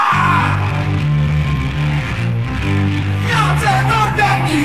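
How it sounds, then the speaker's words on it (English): A minimalist punk B-side song holds a sustained distorted guitar note beneath a loud, raw scream, the whole mix dense and close throughout. "B-side of that single was minimalist song with distorted guitar note and loud scream."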